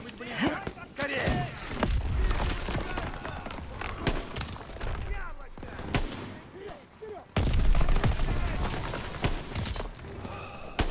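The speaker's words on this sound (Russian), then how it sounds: "Стрельба!" Gunfire from Call of Duty: WWII, sharp shots cracking out repeatedly across the scene amid explosions and battle noise, with voices shouting throughout.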